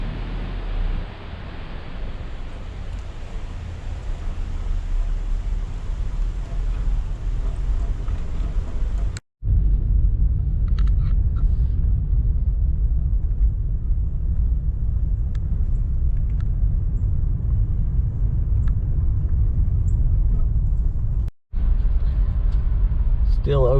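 A vehicle driving down storm-damaged Orchard Hill Road after Hurricane Helene, a steady low road rumble and engine drone with wind noise, continuous and fairly loud throughout.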